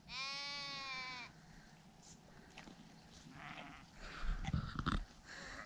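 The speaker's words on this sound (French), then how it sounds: "Des jolies petites chèvres, des moutons, un beau troupeau." A herd of small goats and sheep grazing in Morocco gives one loud, drawn-out bleat close by, then quieter scattered calls and rustling, with a couple of louder thumps toward the end.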